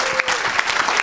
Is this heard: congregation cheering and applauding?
yes